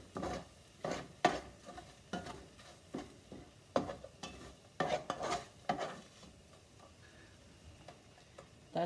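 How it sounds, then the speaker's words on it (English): A utensil scrapes and taps against a pan as flour is stirred into hot bacon grease for gravy, giving a faint sizzle under irregular clicking strokes that thin out toward the end, close by, without speech. "just stir it around. You want that flour to absorb that oil."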